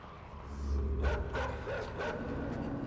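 Dogs in the video game Inside bark in a few quick, sharp bursts over a low, rumbling ambient background, fairly close and moderately loud.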